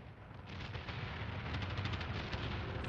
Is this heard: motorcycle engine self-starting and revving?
no